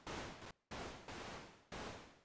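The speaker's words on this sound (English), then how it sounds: "There's also a noise oscillator right here." Atonal noise from an oscillator in an Ableton Live synth plays as bursts of broad hiss, four held notes each fading slightly, separated by brief gaps, with no voice over them.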